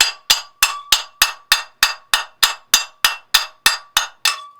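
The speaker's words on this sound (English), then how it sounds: "just take my little brass hammer and just kind of spin it as I'm" A small brass hammer taps a hot tub pump part into place, fourteen sharp metallic ringing strikes in a steady even rhythm, loud and close with no other sound.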